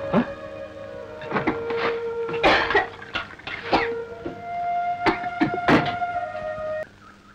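A few sharp coughs break out in bursts over a steady droning tone, close and fairly loud, with no talking.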